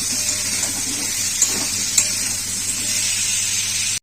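Potatoes fry in a pan for a Bengali prawn and potato curry, giving a steady, close sizzling hiss throughout with a couple of small clicks and knocks from stirring.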